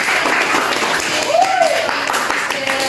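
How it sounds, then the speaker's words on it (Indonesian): Classroom applause for a student group in an Islamic studies lesson: steady dense clapping under a teacher's voice, filling the whole stretch at an even level. "Tepuk tangan untuk kelompok 3"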